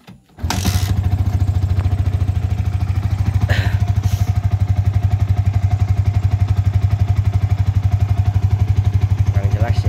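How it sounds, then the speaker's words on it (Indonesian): An older Yamaha Vixion motorcycle engine cranks, catches and settles into a loud, steady close-up idle with a regular pulsing rhythm, a couple of faint clicks on top. "Kita nyalakan untuk unit motornya."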